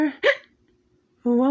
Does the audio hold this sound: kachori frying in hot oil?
no